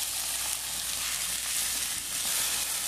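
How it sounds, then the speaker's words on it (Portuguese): Washed rice sautés in a small pot with a steady, loud, even sizzle that holds throughout with no talking. "Vamos refogar ele do jeito que você faz todos os dias"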